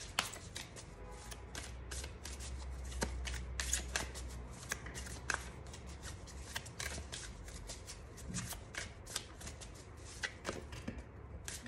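Oracle cards are shuffled close by, with a continuous crisp riffle of rapid flicks and soft slaps that runs on for the whole stretch at low volume.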